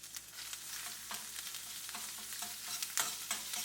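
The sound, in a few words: chorizo sausage frying and popping in a pan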